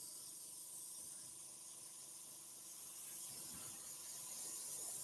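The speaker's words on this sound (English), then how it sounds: "This is a dual action suction feed airbrush." A dual action suction feed airbrush spraying color onto a wooden bowl, a faint, steady airy hiss with a thin whistle, running continuously without speech.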